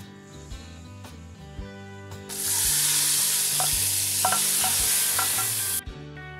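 A loud, steady hiss of sizzling erupts suddenly as hot oil tempering is poured into chana dal, continuing for a few seconds before abruptly dropping away, with clinking and stirring around it.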